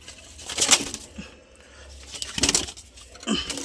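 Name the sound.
black pigeons in a loft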